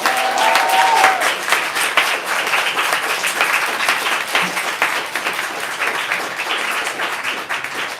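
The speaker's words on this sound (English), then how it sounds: "If we could give a warm round of applause for José." Loud, sustained applause from a bookstore audience for author José Olivarez, dense clapping that keeps a steady level throughout, with a brief voice heard near the start.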